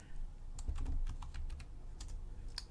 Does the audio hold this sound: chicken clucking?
no